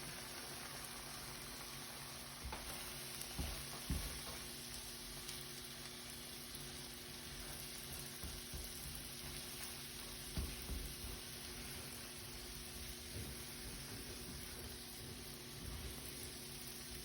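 An egg frying in a pan with peas and carrots for shrimp fried rice, a faint continuous sizzle and hiss with occasional light taps and scrapes, low in level and without speech.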